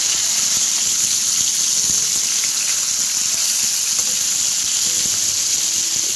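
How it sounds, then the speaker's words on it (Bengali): Hilsa fish fry lightly in hot oil, giving a dense, even sizzle that holds steady and loud for the whole stretch with no talking. "মাছগুলো আমি খুব কড়া করে ভাজবো না, হালকা করে ভেজে তুলে নেব।"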